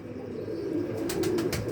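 Pigeons coo softly nearby, low rolling calls repeating under light background noise, with a few brief sharper sounds near the end.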